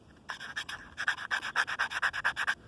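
A match scrapes repeatedly across the red strike area of a matchbox, a close, dry rasping in short, rapid strokes that speed into a steady rhythmic series after a brief pause.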